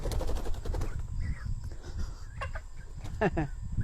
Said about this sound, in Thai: ไก่ก็บิน